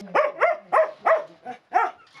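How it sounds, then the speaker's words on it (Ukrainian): A Slovak hound barks and whines at home as it greets its owner: six loud, close, harmonic barks in a steady, excited rhythm with no talk over them. "це європейська собака"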